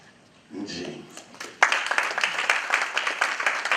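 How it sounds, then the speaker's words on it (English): Conference audience applauding a guest speaker in a hall, a steady wash of many hands clapping that swells suddenly and carries on loud, with a voice speaking over the start. "Let's give her another round of applause, ladies and gentlemen"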